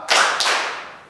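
Two sharp claps from a group of Scout troop members doing the tepuk pramuka scout clap at a welcoming ceremony, loud and close with no talking.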